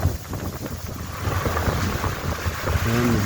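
Big waves wash onto a beach beside a moored outrigger boat near Limasawa island, a steady loud roar of surf and water with heavy wind buffeting the microphone throughout.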